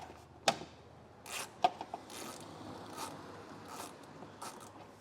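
A socket wrench ratchets at 11mm heat shield nuts under a 2018 Jeep Compass during a hitch install, giving a few sharp close clicks and scrapes followed by softer intermittent mechanical rattling.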